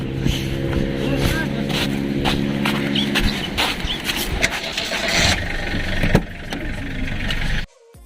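A parked car's engine cranks and catches, then idles and revs as it gets ready to drive out, fairly close, with voices and other noise around it before it cuts off abruptly.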